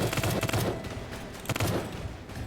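Gunfire from a heavy gun in the Roblox game Squid Game comes in loud, rapid bursts of shots, two dense volleys separated by a brief lull.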